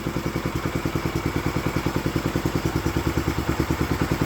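An old lawn mower engine idling in a fast, even chugging putter with a clattery edge, loud and close, running steadily alone.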